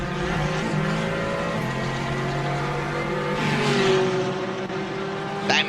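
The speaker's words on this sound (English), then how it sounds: "Love the sound of this big Merc." A big Mercedes race car in the Gran Turismo 4 video game roars with a steady engine drone that rises in pitch as it accelerates. Tire squeal and other cars are heard around it.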